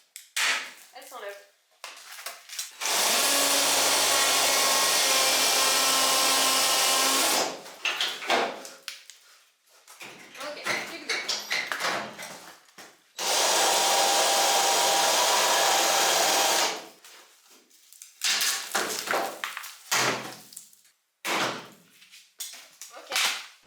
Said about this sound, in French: c'est une toute nouvelle disqueuse, je sais pas ce que ça donne